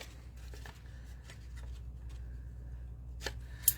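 Scissors cut paper at an angle while making a craft folder, giving several soft, close snips and rustles against a quiet room, ending with a sharp click.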